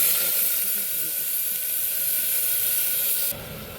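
Soaked pea dal goes into hot oil with browned cumin in a pressure cooker, giving a loud, steady hissing sizzle that drops off abruptly near the end.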